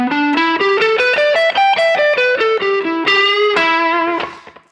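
Distorted electric guitar plays a quick run of notes in a slow blues in E, with a bend from the minor toward the major third. The tone is loud, sustained and saturated, with no voice over it.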